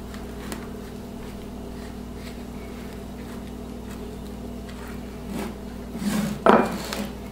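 Spatula scraping and smoothing brownie batter across a nonstick-sprayed baking pan, a soft steady rubbing that ends in a few louder scrapes and taps against the pan.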